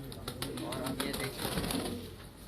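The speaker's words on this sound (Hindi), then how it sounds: "ये अब मेरे हाथ पे बैठ गया कबूतर।" A pigeon flutters its wings as it lands on a person's hand, with soft cooing and rustling close by beneath continuous talk.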